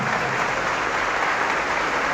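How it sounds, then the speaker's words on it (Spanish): A crowd applauds a Catholic priest in steady, even clapping that holds at a moderate level for the whole stretch. "Aplauso para el padre, gracias padre."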